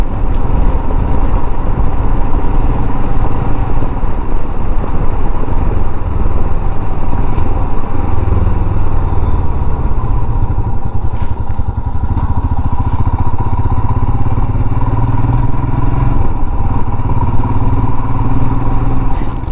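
Motorcycle ridden along narrow country back lanes and through a village, its engine droning steadily and close throughout with a low rumble and constant wind noise, no talking.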